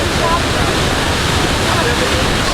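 La Fortuna waterfall in Costa Rica pours with a loud, constant, close-up roar of rushing water, an unbroken wash of noise.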